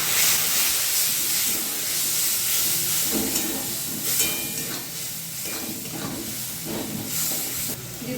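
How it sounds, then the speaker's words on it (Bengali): Spice paste with sugar, mustard-poppy paste and a splash of water sautéed in a pan for a bhetki fish-bone chorchori, giving a steady close sizzle and hiss with occasional stirring scrapes, no talking. "স্বাদের জন্য অল্প চিনি, সরষে পোস্ত বাটা, অল্প জল দিয়ে কষিয়ে নেব।"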